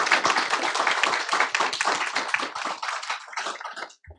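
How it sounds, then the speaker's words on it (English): An audience at a school district board meeting claps for high school employees, a dense round of applause from a small crowd that holds steady for about four seconds before tapering off, with no talking over it. "Let's give Benicia High School employees a good round of applause"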